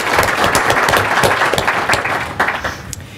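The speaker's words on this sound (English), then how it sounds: "Let's give a round of applause for Jim Hasegawa." An audience at a big data panel session applauds steadily, dense clapping filling the short stretch at an even level without letup.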